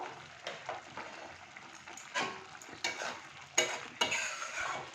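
Tangra fish chochori being stirred in a pan with roasted coriander-cumin powder: repeated scraping strokes of a spoon against the pan over a soft sizzle, with sharper scrapes near the end.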